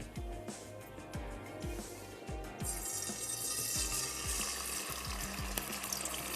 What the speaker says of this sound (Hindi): चिकन को हल्का सा हम भून लेंगे अदरक और लहसुन के पेस्ट के साथ